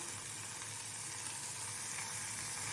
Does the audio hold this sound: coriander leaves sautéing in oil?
yes